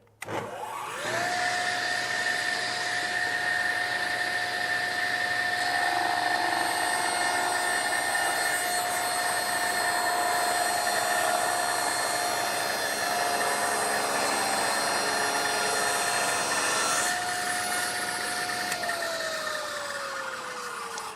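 Table saw cutting wood: the motor spins up into a loud, steady whine while the blade rips through the board for about seventeen seconds, then the pitch falls away as it winds down, with no talking.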